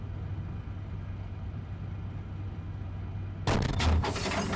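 A tank main gun fires once in the Steel Beasts Pro PE simulator, a sudden loud boom with a rumbling tail that breaks over a steady engine drone.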